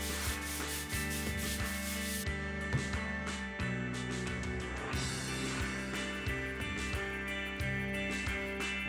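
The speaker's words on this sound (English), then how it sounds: "These 3 holes are all sanded, patched, ready to paint." Patched holes in a townhouse wall are sanded with steady, close, rasping strokes that repeat in a rough rhythm, with tonal music playing underneath throughout.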